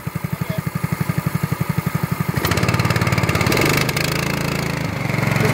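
Go-kart engine idling with a rapid, even chugging putter, then revving up loudly as the throttle is held open by hand, holding a higher strained roar with slight dips.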